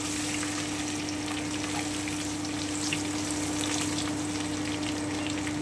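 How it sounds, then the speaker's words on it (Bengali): Crushed garlic sizzles lightly in a hot pan, a steady, even frying hiss running alone throughout with a faint low hum beneath and no voices. "এবারে আমি রসুন থেতোটা দিয়ে দিচ্ছি। আমি হালকা একটু ভেজে নেব।"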